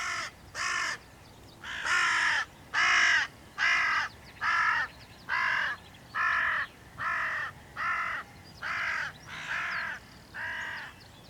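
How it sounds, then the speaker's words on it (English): A hooded crow calls in a loud, harsh series of about a dozen evenly spaced caws, each raspy and clear against a quiet outdoor background. "I think you can tell by the sound of the racket that another hooded crow has appeared"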